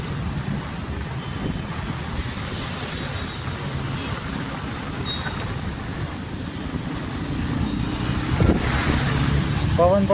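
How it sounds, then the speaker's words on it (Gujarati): Strong gusty wind blows during heavy rain on an Ahmedabad street, a loud, continuous rushing roar buffeting the microphone that swells toward the end, with voices talking beneath it. "પવન પણ ફૂલ, છત્રી ઉડી જાય એવું થઈ રહ્યું છે."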